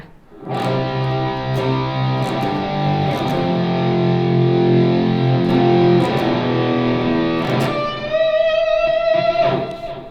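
A distorted electric guitar, heard through a microphone, rings out in sustained, gritty chords, holding for several seconds before a brighter change near the end; no voices.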